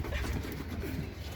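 Pigeon cooing softly in a brief, low murmur, faint and close with background hum.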